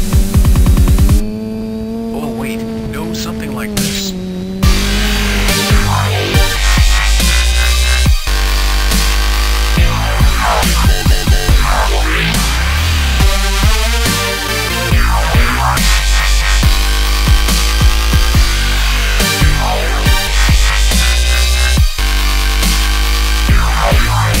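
Heavy, distorted dubstep synth bass growls and wobbles continuously at high volume, shifting in tone, with a brief quieter break near the start and sharp cuts throughout.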